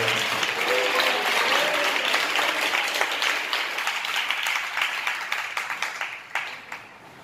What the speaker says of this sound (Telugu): గట్టిగా చప్పట్లు కొడుతుంటే